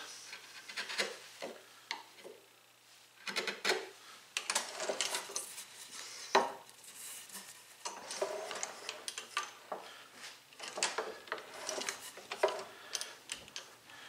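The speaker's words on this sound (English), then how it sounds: "I want to be chiseling into the bench, not to the side" Hand chisel cutting into a wooden workpiece clamped in a vise, undercutting a shoulder: quiet, irregular scraping and tapping strokes in clusters, close and faint, with pauses between.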